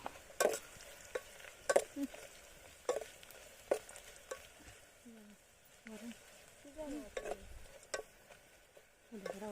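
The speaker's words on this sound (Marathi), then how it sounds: "खड्यांचा मसाला पण आपण लगेच फ्राय करून घेऊया" Garlic, onion, coriander, curry leaves and whole spices frying at an outdoor riverside village cook-up in Kokan, with scattered stirring clatters and sizzle, and a voice talking intermittently over it.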